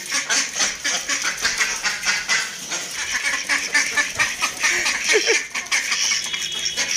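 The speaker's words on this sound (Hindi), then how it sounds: "बतखों ने तो आपस में लड़ना शुरू कर दिया है।" Ducks and growing chicks squabble over a dropped piece of liver, loud overlapping quacks and honking calls coming in quick bursts, close by and continuous.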